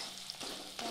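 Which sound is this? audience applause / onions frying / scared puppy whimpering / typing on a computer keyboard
onions frying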